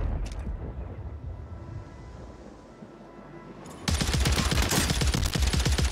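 Rapid automatic gunfire in Warzone 3 bursts in loud and close after a quieter stretch, with a brief crackle of shots at the start and a dense, steady stream of rounds at the end.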